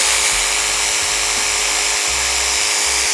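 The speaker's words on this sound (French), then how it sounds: "on peut voir que la scie sauteuse branchée consomme 8 watts" A jigsaw cutting wood while running from a Romoss RS1000 portable battery, a loud, continuous buzzing motor whine with a rapid reciprocating chatter and no talking.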